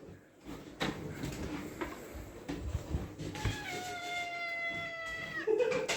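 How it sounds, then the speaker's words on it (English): Indoor cat meowing and caterwauling, several drawn-out, rising and wavering yowls close by that follow knocks and shuffling, with a short harsh cry at the end. "this is what the cat sounds like every time we walk through here"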